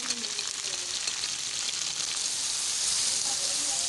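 Chicken and onions browning in a frying pan for chicken karela, a steady bright sizzle that runs throughout, growing slightly louder toward the end.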